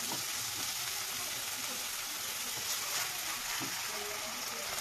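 Egg chilli masala with green chilies and salt fries in a pan, a soft continuous sizzle with occasional light stirring scrapes.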